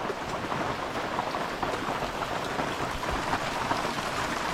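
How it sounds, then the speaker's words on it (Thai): Steady, dense rain pours down on a roof, a continuous hiss and patter with no pauses. "ได้ยินเสียงฝนไหมทุกคน"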